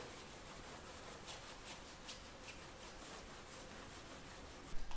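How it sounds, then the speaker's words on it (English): Steady, quiet rubbing as a cloth wipes acetone over sticker residue on a Yamaha YZ125 dirt bike, a soft continuous scrubbing with faint rhythmic strokes and a couple of small knocks at the end. "Gonna use some acetone to get the sticky leftover stuff off."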